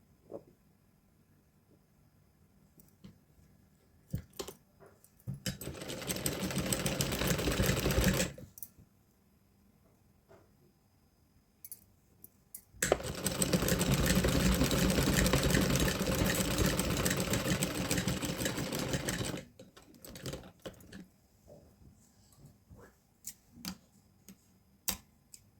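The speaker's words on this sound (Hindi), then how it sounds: "इसमें इस तरह से एक सिलाई मशीन चला देंगे।" A sewing machine stitches along folded fabric in two bursts of fast, steady mechanical whirring, one about three seconds long and one about seven, with quiet handling clicks and taps in the pauses.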